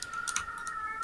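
A strange, high, drawn-out cat meow rings through an online gaming coaching session, holding a steady thin tone, faint and alone with a few light clicks around it.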